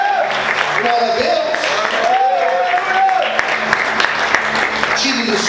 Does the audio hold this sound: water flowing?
no